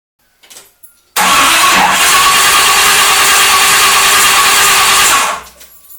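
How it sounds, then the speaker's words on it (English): A 1973 Corvette Stingray engine cranks loudly for about four seconds after a brief rattle, a steady broadband churn that cuts off without catching, heard alone at close range. "So we'll fire it up again and see if we have any more leaks."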